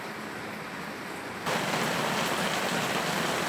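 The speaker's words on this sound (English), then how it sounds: "still it is raining outside" Steady rain falls outside, a broadband hiss that becomes noticeably louder and denser partway through and then holds on alone with no talking.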